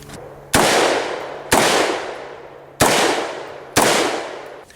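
An AR-15 pistol chambered in 5.56/.223 fires four loud, sharp shots in an irregular rhythm, each blast trailing off into a long echoing decay outdoors.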